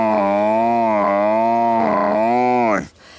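A voice imitates a buffalo's call: one long, low, resonant bellow that wavers in pitch for nearly three seconds, close and loud, then cuts off abruptly.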